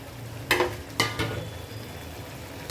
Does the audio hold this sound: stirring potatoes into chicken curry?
yes